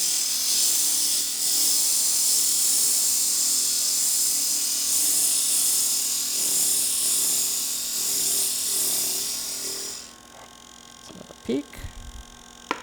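A pen blank on a spinning lathe being sanded with 120 grit sandpaper, a continuous hissing rasp over the lathe's motor hum, close and steady, ending abruptly with a few knocks.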